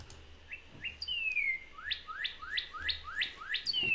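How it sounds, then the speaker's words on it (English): A northern cardinal sings outside an open window, a clear series of repeated down-slurred whistled notes in steady rhythm, moderately near over a quiet background. "We'll see if the cardinal that's outside is going to come to the window and say, "Who's that?""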